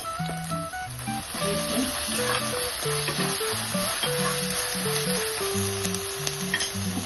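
Onions fry in oil with crushed ginger, garlic and green chilli for a fish curry, a continuous close sizzle with occasional stirring under a light background melody.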